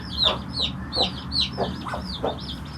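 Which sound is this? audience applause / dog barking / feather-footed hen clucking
feather-footed hen clucking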